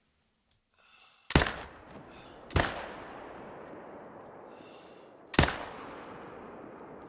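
Three sharp, loud rifle shots at whitetail bucks in a hunting video game, the first two about a second apart and the third after a longer pause, each with a decaying echo tail and a faint click beforehand.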